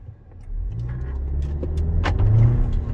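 A 2021.5 Volkswagen Atlas with the 2.0-litre turbo engine accelerates in race mode, its engine rumble swelling from a low idle into a loud, close, steady pull, with no talking.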